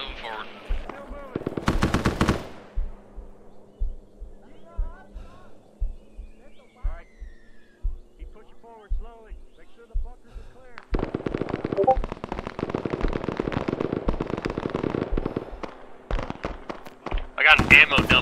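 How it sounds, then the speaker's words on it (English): Incoming artillery in a military video game lands as a few loud, close blasts among steady distant thuds and gunfire. Voices talk over the action. "Artillery coming in on these old positions of theirs."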